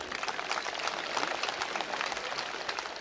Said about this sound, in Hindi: एक बार जोर से अपने लिए ताली बजा दो।